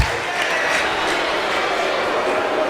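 Large wrestling arena crowd roaring and cheering steadily at a live event, a dense continuous wash of noise with no pause.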